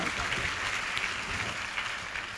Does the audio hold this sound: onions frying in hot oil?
no